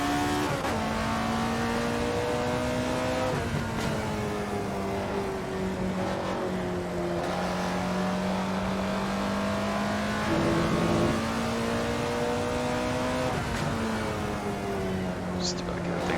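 Alfa Romeo 33 Stradale engine in the Assetto Corsa racing game on a track with chicanes and Lesmo corners, a steady droning engine note rising and dropping through gear changes, continuous and close, with someone talking over it.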